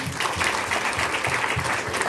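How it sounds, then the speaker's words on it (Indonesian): Audience applause for Ibu Novi at a company meeting, a dense, steady wash of many hands clapping, close and even throughout with no voices over it. "Tepuk tangan untuk Ibu Novi"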